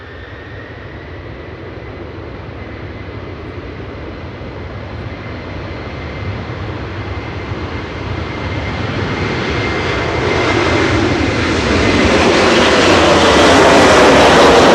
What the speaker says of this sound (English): heading out to Orlando for Aer Lingus UK is GEILA through flight